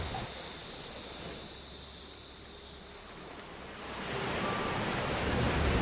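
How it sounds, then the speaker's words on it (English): Ocean surf drifts in through open hotel windows as a steady, broad wash of noise that swells louder near the end, with no voices and a faint high hiss running throughout. "I can hear the ocean."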